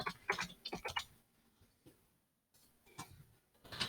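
Quiet, close clicks of typing on a computer keyboard come in short bursts of rapid taps, separated by a near-silent pause before a final flurry.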